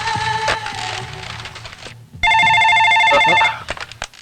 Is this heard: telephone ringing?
yes